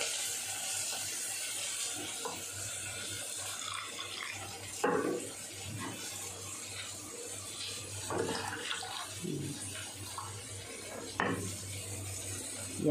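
Water splashed and poured into a pan while making Bombay chutney, intermittent splashing and clinking bursts over a low kitchen hum, fairly close and quiet.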